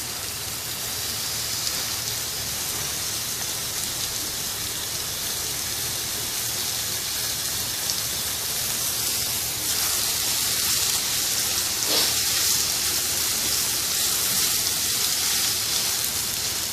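Two chopped medium onions sizzle in hot oil while frying light golden for a chicken karahi, a steady dense crackle holding at an even level throughout with no voices.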